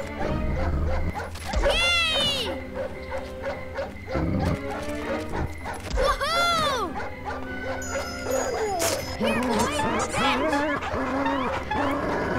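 Dogs barking in the Up video game, several loud yips and bow-wows over game music, with a person talking in between.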